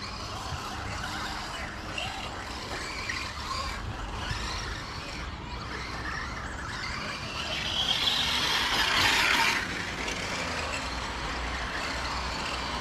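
A Losi DB10 Pro RC desert buggy running on 2S power: a continuous high electric motor whine with tire scrub as it drifts, rising briefly louder mid-run, heard outdoors at moderate distance, with no talk.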